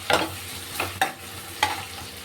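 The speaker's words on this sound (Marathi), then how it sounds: "याला चांगलं असं फ्राय होऊ द्यायचं 2-3 मिनिटं" Ginger-garlic paste, pounded in a mortar, fries in a pan with a soft continuous sizzle, broken by four sharp scraping strokes as it is stirred.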